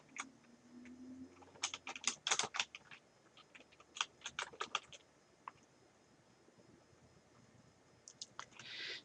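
Bursts of keystrokes on a computer keyboard, clustered into quick runs of clicks with pauses between, fairly close and moderately quiet, with no talking.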